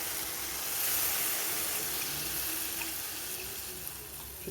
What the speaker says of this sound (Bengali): এবারে আমি দিয়ে দেবো জল পরিমাণ মতো, যাতে আলুগুলো ভালোভাবে সেদ্ধ হতে পারে আর কিছুটা গ্রেভি থাকবে।